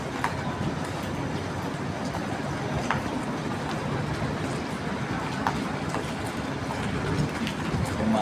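MRT train rolling past in the rain amid city traffic, a steady mid-level rumble and hiss of wheels and rainfall with faint clicks, heard from some distance with a continuous wash of noise.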